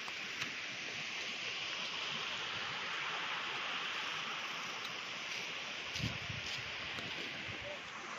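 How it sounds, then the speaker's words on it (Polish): Hot river in Peru, water near boiling, flowing steadily as a broad continuous rushing wash, close and fairly loud, with a brief heavier splash or thump near the end. "rzeka typu wrzątek"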